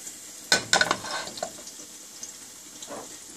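Cumin seeds, about half a teaspoon, in a little hot oil for an Indian taro curry, give a few sharp crackling pops and sizzles close by, clustered early and then trailing off into quieter scattered pops.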